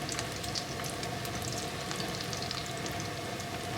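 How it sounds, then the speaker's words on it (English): Vegetable tempura, kakiage-style clumps of Japanese vegetables, frying in a pan of hot oil with a steady, close crackling sizzle and fine popping throughout, no voices. "It fried up nice"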